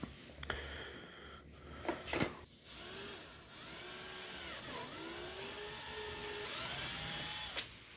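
A power drill whines in short bursts and longer runs as it widens a hole in the bumper of a 2018-22 Honda Accord, with rising and falling pitch between brief pauses, fairly quiet and close.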